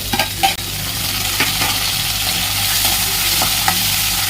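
Whole tomatoes drop into a pan of dried anchovies sautéing for a dry fish gravy, with a steady loud sizzle throughout and a few clinks and stirring knocks near the start.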